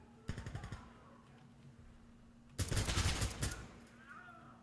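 Video game gunfire rattles off in two bursts of rapid automatic shots, the second louder and denser, with quieter game ambience between them.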